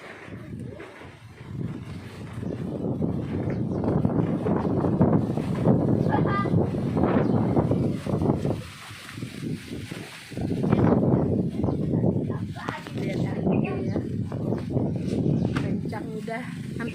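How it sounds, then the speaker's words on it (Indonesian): Strong, gusty wind roars steadily for close to an hour and buffets the microphone as broadband rushing. It swells and dips, with a brief lull near the middle, while people talk over it. "Kencang, udah hampir 1 jam loh nggak berhenti anginnya."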